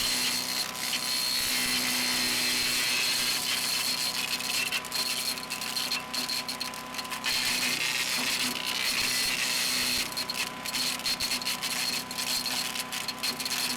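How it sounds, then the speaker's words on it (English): Earthquake K32 chipper shredder (model 33968) chipping branches fed through its guide cone, a loud continuous motor roar with scattered crackling and grinding bursts as the blade chews wood, steady throughout with no talk. "Gravity in the chipper will pull the branch in."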